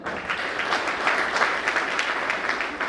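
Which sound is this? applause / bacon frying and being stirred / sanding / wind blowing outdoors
applause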